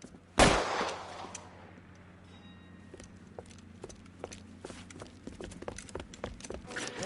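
A single loud gunshot in the video game L.A. Noire, followed by scattered fainter shots and clatter over a low hum.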